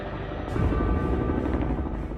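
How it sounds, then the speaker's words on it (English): Steady, close thudding rotor and turbine roar from a doorless helicopter in flight over a lake, loud and unbroken with no voices. "We'll go in a helicopter."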